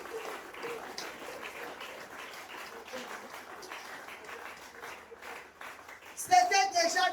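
A church congregation bursts into applause to acclaim Jesus during a sermon, a spread of clapping that holds steady with voices mixed in, then a louder shout rises at the end.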